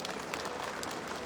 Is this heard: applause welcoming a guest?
yes